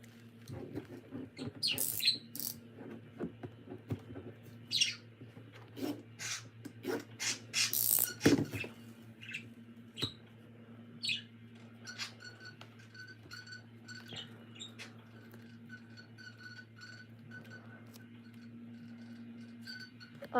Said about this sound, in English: I have a bird, which you can hear in the background.